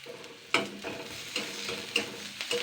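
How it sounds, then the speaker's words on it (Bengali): Crushed garlic fries in hot oil with a soft, steady sizzle, broken by several sharp scrapes and clacks of stirring, close and fairly quiet, with no voices. "রসুনটা খোসা ছাড়ি থেতো করে নিয়েছি ফোড়নে দিয়েছি"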